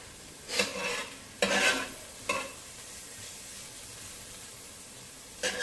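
Ingredients for a meat sauce sauté in a pan, giving a soft, even sizzle broken by a few scraping stirs of a utensil against the pan. No one speaks.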